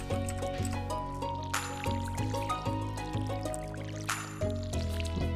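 Watering can filling with water in Stardew Valley, a soft steady trickle blended into a quiet looping melody of plucked game music, with no talk.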